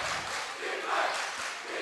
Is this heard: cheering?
yes